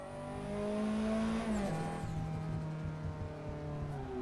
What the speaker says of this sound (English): I'm going to pick this gorgeous blue Shutoko spec Toyota MR2 Mark II, just under 600 brake horsepower. It sounds fantastic.